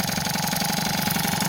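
A Peugeot 103 SP moped fitted with a Transval 70 kit runs close by with a rapid, buzzing two-stroke rattle, holding a steady, raised pitch.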